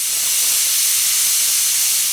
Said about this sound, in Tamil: மசிஞ்சு வரதுக்காக நான் 4 to 5 விசில்ஸ் விட போகிறேன்